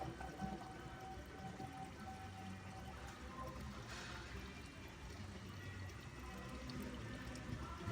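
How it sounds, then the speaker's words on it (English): Transmission fluid from a Honda ZF9 gearbox draining out of the drain plug hole, a faint, continuous pouring trickle that stays steady throughout. "And we'll just let that drain completely."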